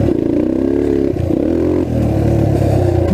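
Engine of a restored trail bike revving hard while being ridden, a loud, continuous buzzing drone that rises and falls in pitch with brief dips between throttle pushes.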